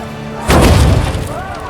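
A ballista fires in The Witcher 2 with one heavy, sudden boom partway through, followed by a rumbling, crashing tail. Voices are heard before and after the shot.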